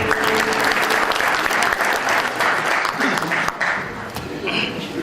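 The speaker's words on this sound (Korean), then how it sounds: "힘찬 박수로 맞이해주시기 바랍니다." An audience at an architecture department's 40th anniversary event applauds to welcome a speaker, a full, sustained wash of clapping that thins out toward the end.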